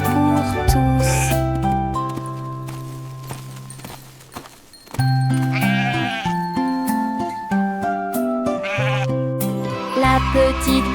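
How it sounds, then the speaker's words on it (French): Sheep bleating within a children's song, with wavering animal cries over a bouncy musical backing, clip-clopping rhythm, and sung vocals. "Elle conduisait les moutons le long du chemin. Ils sautaient tous les uns après les autres et bêlaient"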